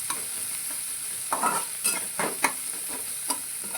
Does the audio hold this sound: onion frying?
yes